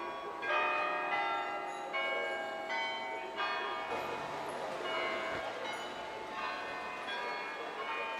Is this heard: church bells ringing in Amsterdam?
yes